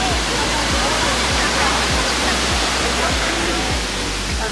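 Hooker Falls, a North Carolina waterfall with swimmers nearby, roars as a loud, steady broadband rush with low churning pulses, continuous throughout and heard alone without talk.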